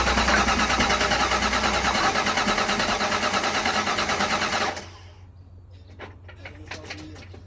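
A Foxbody Mustang engine cranks steadily without catching for several seconds, a loud continuous starter whir that cuts off abruptly, followed by faint clicks and quiet background noise.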